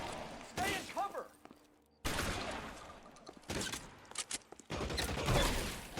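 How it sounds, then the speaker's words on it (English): A Tommy gun in L.A. Noire hammers out long sustained bursts of rapid automatic fire, loud and dense, with brief pauses between volleys and a voice speaking near the start. "Oh, he's got a Tommy gun."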